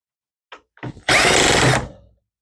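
A power drill driver backing screws out of a Dell Inspiron 1521 laptop during a teardown, two short blips followed by a close, loud whir lasting under a second, then quiet.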